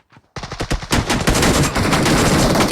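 Loud, rapid automatic gunfire from the PUBG battle royale game rattles in close, continuous bursts after a brief near-silent opening, dense and unbroken with no speech.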